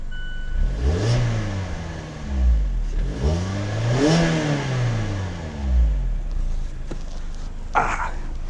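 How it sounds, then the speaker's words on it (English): A Mazda Miata engine starting and revving repeatedly, rising and falling in pitch across several throttle blips, loud and close, with a clunk near the end. "now it's time to start the Mazda. It's got a nice little aggressive tone on startup."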